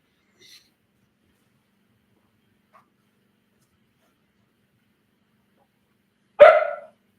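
A hungry puppy gives one sharp, close bark near the end after a long quiet stretch with only a faint yip at the start.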